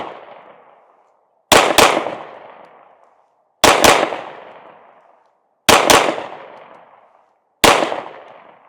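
Pistol shots from an Echelon 4.0C or Glock 19 Gen 5 at 8 yards come mostly as rapid double taps in four evenly spaced bursts. Each crack is loud and sharp, with a ringing decay and no talking.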